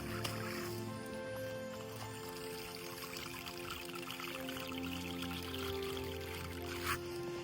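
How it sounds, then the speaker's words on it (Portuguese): Rushing water from the Cachoeira das Orquídeas waterfall in Chapada Diamantina, Brazil, a continuous broadband roar with a splashing, pouring texture, steady and fairly close, alone without talk. "Barulho de cachoeira, né?"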